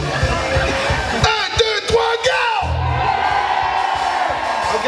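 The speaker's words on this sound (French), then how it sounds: "puis à go, on crie" Large outdoor concert crowd at a summer festival in Mauricie, Québec, shouting together on cue in one big loud collective yell that rises suddenly and then holds as a sustained roar.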